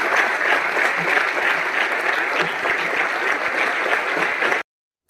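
An audience applauds in dense, steady clapping that stays loud and even for several seconds, then cuts off abruptly into silence.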